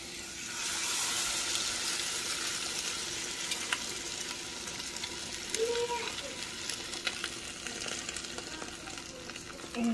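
Eggs and sauce fry in a pan, a steady close sizzle lasting the full ten seconds with occasional scrapes and light clatter, and faint voices in the background.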